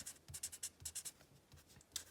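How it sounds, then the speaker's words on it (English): A pen scratches across paper during hand lettering, with faint, quick, rhythmic strokes heard close up in a quiet room, with no talking. "Every time we write, our pen is moving in one of three basic directions."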